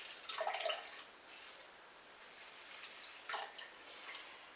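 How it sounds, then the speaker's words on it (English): Juice from squeezed dried elderberries drips into a crock pot, a few faint, quiet drips and trickles scattered over a hushed, near-silent background. "I'll squeeze all of this out as much as I can"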